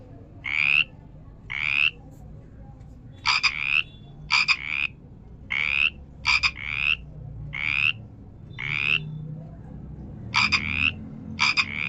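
Frog croaking in repeated separate bursts, about a dozen raspy calls spaced irregularly over a low background rumble, close and clear with no talk.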